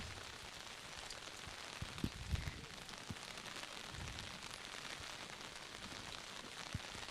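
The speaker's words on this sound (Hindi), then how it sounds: "बारिश तेज़ हो रही है" Heavy rain falls steadily during monsoon flooding near the Hindon river, a dense continuous hiss with a few low thumps, no voices.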